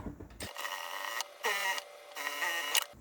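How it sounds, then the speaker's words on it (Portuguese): A sewing machine stitches the full side seam of a pair of trousers in three bursts of steady whirring, close and fairly loud, with short pauses between runs and no talk. "E aí, você vai costurar a lateral inteira, tá? Do começo até o final."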